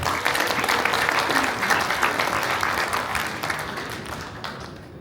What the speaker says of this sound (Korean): 여러분 이분들을 위해서 한번 박수 한번 쳐주시죠